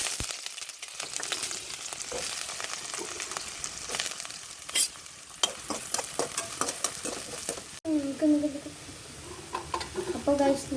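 Vegetables frying in hot coconut oil in a pan while being stirred, with a steady close sizzle and repeated scraping stirs throughout, ahead of adding green chilli and garlic for chilli mushroom.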